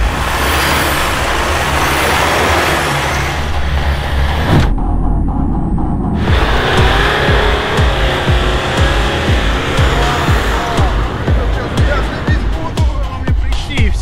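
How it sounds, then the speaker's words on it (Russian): A VAZ 2107 4x4 driving slowly off-road, its engine a loud, rough, continuous drone with thuds and bumps from the uneven ground, briefly cut out midway, with voices talking over it. "И все, сразу поехала машина."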